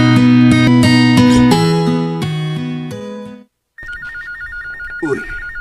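A telephone rings for an incoming call, a loud close warbling electronic ring repeating in quick bursts, then a brief pause before a thinner, higher, pulsing ring tone continues alone.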